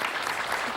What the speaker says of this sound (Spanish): un aplauso porque realmente lo han resuelto con una rapidez digna de